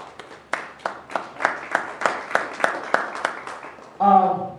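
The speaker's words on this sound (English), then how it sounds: "Can somebody give God a hand clap of praise?" A church seminar congregation claps in praise, about a dozen sharp hand claps in a steady, even rhythm, followed by a voice starting to speak at the end.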